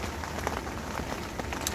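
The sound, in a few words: rain falling on a fishing shelter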